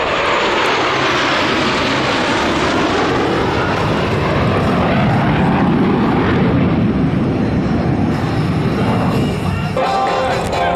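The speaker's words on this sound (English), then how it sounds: "Malaffa calls for the 4 Diamond pilots to perform simultaneous intervals in close formation." Thunderbird Diamond jets fly in close formation at the Joint Base McGuire-Dix-Lakehurst airshow, a loud sustained engine roar that shifts in pitch as they pass, with faint crowd sounds beneath.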